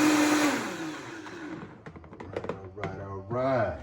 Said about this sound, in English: And we'll put the blender on warp speed here